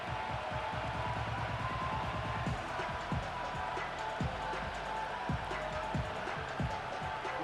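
Football stadium crowd, a low rumbling murmur spread evenly throughout, with rhythmic thumps and occasional swells beneath it.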